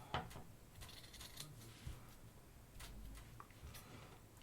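Scissors snip zigzags into circular felt, quiet close crisp cuts and rustles in an uneven rhythm, with no talking.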